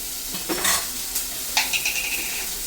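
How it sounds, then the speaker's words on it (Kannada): Onions frying and being stirred in a pan until browned for a methi (fenugreek leaf) sabji, with a steady sizzle and a few scraping stirs and utensil clinks, close up, no talking. "ಈರುಳ್ಳಿ ಕೆಂಪಗಾಗೋವರೆಗೂ ಚೆನ್ನಾಗಿ ಹುರ್ಕೋಬೇಕು"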